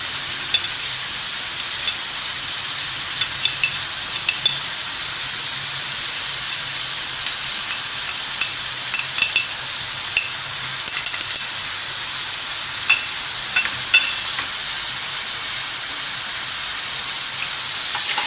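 Beef liver fries in a pan with ginger, garlic and whole garam masala, giving a steady, even sizzle with occasional small crackles and stirring clicks, and no talk.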